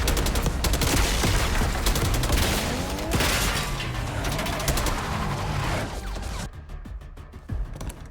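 Dense, loud automatic gunfire rattles almost nonstop during a Call of Duty: Black Ops 6 cutscene assault on a palace gate, with heavy crashes mixed in, then thins to a few scattered shots near the end.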